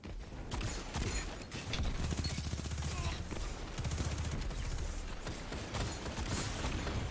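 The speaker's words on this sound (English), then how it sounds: "I wasn't able to connect my hipfire shots there with my SMG" Rapid bursts of SMG hipfire in a Destiny 2 PvP match, loud crackling volleys in several strings with brief gaps between them.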